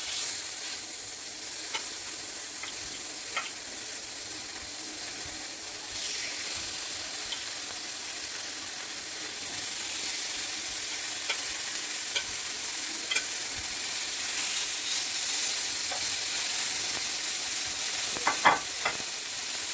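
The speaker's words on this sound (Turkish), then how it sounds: "şimdi yaklaşık 5 dakika boyunca ısıttığımız tavamıza etlerimizi yavaş bir şekilde koymaya başlayacağız" Ribeye steaks laid into a pan preheated for about five minutes, sizzling and frying with a steady loud hiss throughout, broken by a few sharper crackles and spits near the end.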